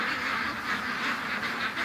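A flock of ducks quacks in a busy overlapping chatter near a swamp and yard, steady and fairly close for the whole short stretch.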